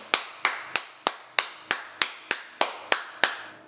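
Single pair of hands clapping alone at an even, unhurried pace, about eleven crisp, close claps with short decays between them.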